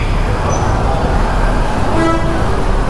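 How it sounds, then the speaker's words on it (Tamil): A roadside traffic jam caused by a truck fills the air with a constant engine and road roar, while brief vehicle horn toots cut through near and far. "இந்த ட்ரக்கால் எல்லாமே டிராஃபிக் ஆகிடுச்சு போல்"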